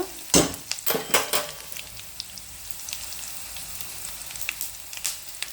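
Green chillies fry in hot oil in a pan, giving a crackling sizzle with sharp spits and pops near the start, then settling into a softer steady fizz.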